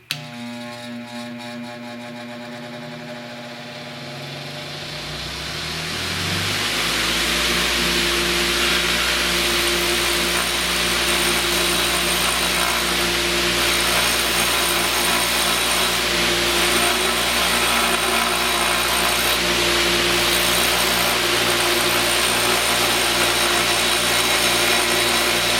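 A Harbor Freight 8-inch bench grinder spins up to full speed while a dressing stone is worked slowly back and forth across its wheel, making a loud, steady whirring roar with a rough grinding hiss that continues unbroken.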